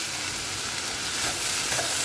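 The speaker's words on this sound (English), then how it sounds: "I'm stirring all together so that it can mix very well." Spring onion and mixed vegetables stir-fried for homemade fried rice give a steady, loud hiss of sizzling oil with light scraping of stirring, close and continuous, with no voices.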